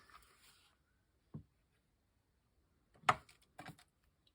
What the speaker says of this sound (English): Let's punch this one.